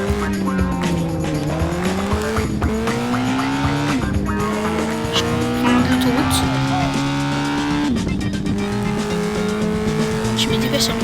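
A rare car races through the streets in Gangstar IV while fleeing police, its engine droning steadily and tires squealing repeatedly through hard turns, loud and continuous with a voice speaking over it.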